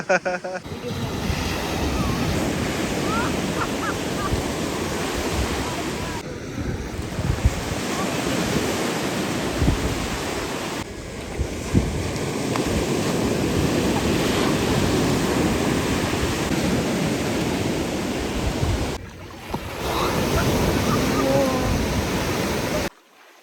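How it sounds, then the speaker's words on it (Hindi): Sea waves break and surge steadily on a beach, a loud continuous roar of surf with wind buffeting the microphone, broken by a few brief dips, while people play in the water. "अभी हम लहरों के साथ खेल रहे हैं, उधर से जो लहरें आती हैं"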